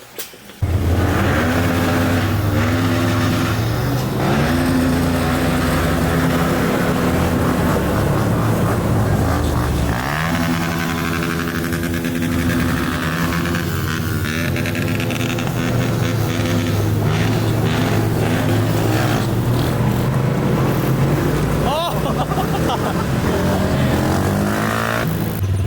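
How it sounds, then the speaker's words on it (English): An electric dirt bike rides along a street, giving a steady, loud continuous whine and rumble that shifts pitch with speed for the whole stretch, with no talk over it. "No, it's an electric bike, dude."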